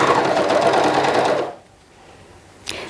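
A sewing machine stitches through fabric and an elastic waistband in a fast, close, buzzing run that stops abruptly, followed by near quiet and a brief click.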